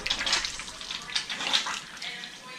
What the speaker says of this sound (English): Okay, so I'll get some of this hot water.